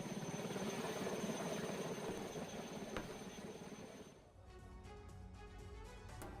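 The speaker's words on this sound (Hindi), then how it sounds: "जम्मू कश्मीर के राजौरी में हेलीकॉप्टर की इमरजेंसी लैंडिंग एक खेत में करानी पड़ी" A helicopter making an emergency landing in a field in Rajouri, Jammu and Kashmir, after a technical fault, its loud whirring roar settling partway through into a steady rapid rotor chop.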